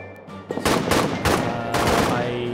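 Rapid volleys of rifle and machine-gun fire from the trench-warfare video game All Quiet in the Trenches, with loud, dense bursts of shots that overlap one another and keep going without a break.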